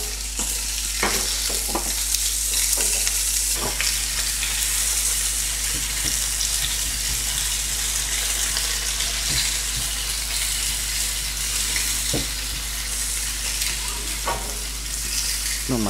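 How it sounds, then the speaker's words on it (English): Onions fry in a pan alongside a T-bone steak meal being cooked, giving a steady, close sizzle throughout with occasional scraping clicks of stirring and no talking. "frying the onions off."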